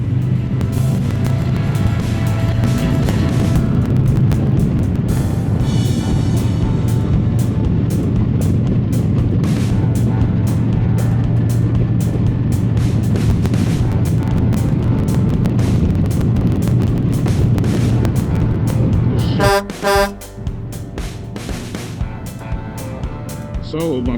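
Strong wind buffets a 360 camera mounted on a Harley-Davidson motorcycle, a steady loud roar with low rumble throughout, dropping near the end to a quieter patch with sharp sputtering bursts.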